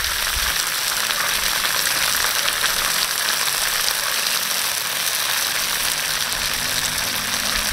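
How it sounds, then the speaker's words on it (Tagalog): Crabs sautéing in a pan with tomato sauce make a loud, constant broadband sizzle that holds evenly close-up throughout, with no voices. "Habang ginigisa natin yan, lalagyan na kaagad natin ng tomato sauce."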